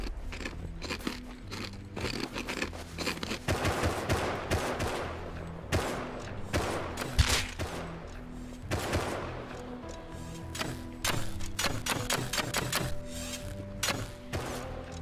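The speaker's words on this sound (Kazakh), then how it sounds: "Мына жерде енді просто жесткий атыстар кетті." Intense gunfire rattles through a firefight in the game Rust, with dense bursts of automatic shots and sharp single cracks trading back and forth almost without pause.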